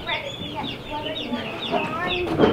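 Chickens cluck and squawk continuously, with a rooster's harsher calls mixed in and a louder burst near the end, while people talk in the background.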